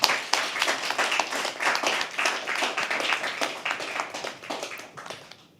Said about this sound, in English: Can we please have a round of applause for that?